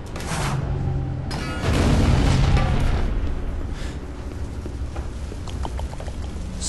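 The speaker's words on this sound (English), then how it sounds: "Oh, explosions!" Deep booming explosions in Captain America: Super Soldier rumble through a continuous noisy backdrop, with the loudest blast swelling in the middle before fading back to a steady roar.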